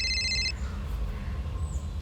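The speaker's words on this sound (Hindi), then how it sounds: "सर, प्रियंका का फोन।" A telephone rings in a short burst of electronic bell tones in an office-like setting, then stops after about half a second and leaves low background hum.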